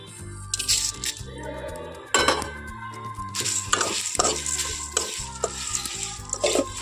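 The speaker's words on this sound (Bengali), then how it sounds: "তো এই গোটা মশলাগুলো এখন আমি এইখানে একসঙ্গে ভেজে নেবো" Whole coriander and cumin seeds fry together in a pan for a sweet-sour-spicy pickle, with steady sizzling, scraping stirs and metallic clinks of a spoon against the pan, close and continuous over a low background hum.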